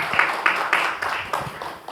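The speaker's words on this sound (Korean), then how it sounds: "다시 한번 큰 박수 부탁드리겠습니다." Audience clapping at a book concert about Cheonghak-dong village, heard as rhythmic, evenly spaced bursts of claps at moderate loudness, like a crowd clapping roughly in time.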